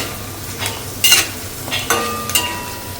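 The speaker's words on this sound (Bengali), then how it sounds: "এই যে পাশে পয়সা চিপসগুলো ভাজা নেবেনছি সিরিঞ্জের চিপস একসাথে" Coin-shaped and syringe-shaped snack chips fry in a pan, with a steady close sizzle broken by several brief louder bursts of stirring or scraping.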